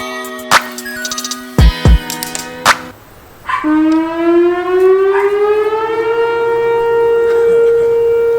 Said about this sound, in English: I test the tornado sirens every Wednesday at noon.